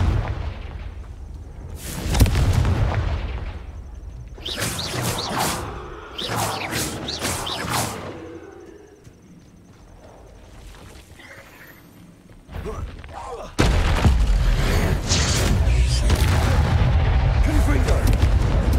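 Confringo blasting spells fired in the video game Hogwarts Legacy, heard as several loud, close booming explosions in bursts with crackling debris, separated by quieter stretches and ending in a sustained roar.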